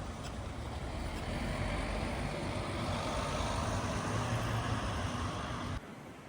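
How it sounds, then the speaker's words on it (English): Diesel buses rumbling through Leeds city centre traffic on a still morning, a steady, dense low engine drone with road noise that holds loud throughout, then drops slightly near the end. "Loads of diesel buses on a still morning in Leeds"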